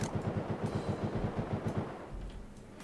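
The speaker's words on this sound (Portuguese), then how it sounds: "Cada um atirando das suas casas." Rapid automatic gunfire in the Rust survival game as neighbours shoot from their houses, a fast even burst of about fifteen shots fading into rumbling echoes.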